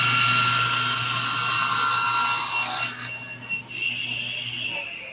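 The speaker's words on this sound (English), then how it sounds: "so that when I make a cut, look at where it's cutting" Power miter saw cutting through a wooden board, a loud, steady broadband whine that runs for about three seconds before the blade cuts out and spins down, leaving a quieter tail.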